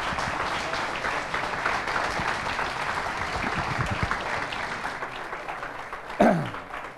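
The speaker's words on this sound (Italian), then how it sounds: "Grazie, con un applauso." Audience applause at a hotel director's introduction during a regional election special in Cosenza, steady dense clapping held for several seconds and ending with a short sharp sound near the close, with no talk over it.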